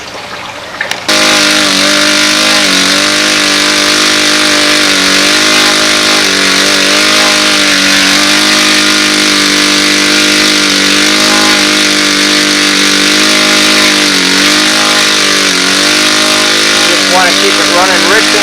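A model airplane engine on a P-51 model runs rich during break-in, holding a loud, steady, buzzing drone with strong harmonics for the whole span after a sudden start.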